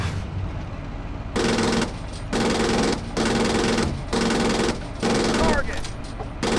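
A Leopard 2A4 tank's machine gun fires in Steel Beasts Pro, with five loud, sustained bursts of roughly half a second each separated by short pauses, close and harsh over a constant engine rumble.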